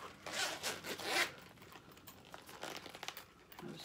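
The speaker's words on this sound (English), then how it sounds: "Zippers." Close, crisp zipping on a pink faux leather crossbody handbag: several quick back-and-forth pulls of the zipper with crinkly rustling, then softer handling noises.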